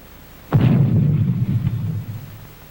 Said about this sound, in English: Watch this explosion a mile away. Its sound takes 5 seconds to reach us.